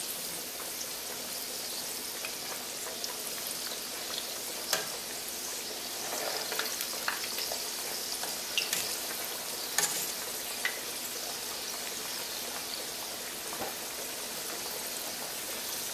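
Plantain slices for tostones frying in hot oil, a steady crackling sizzle with scattered louder pops and spits, continuous and close, with no voices.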